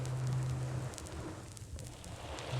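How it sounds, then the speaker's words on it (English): Gentle ocean surf in an old 1962 recording: a soft, steady wash of noise with faint crackling, continuous and low in level, with no voices over it. "There's the gentle sound of ocean surf."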